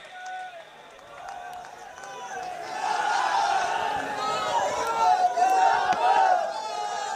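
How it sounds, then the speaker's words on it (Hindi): Crowd at a Khinvsar by-election political rally in Nagaur, Rajasthan, breaking into applause and cheering. The noise swells and stays loud and dense for several seconds, with faint voices beneath. "जोरदार तालियों के साथ स्वागत और सम्मान"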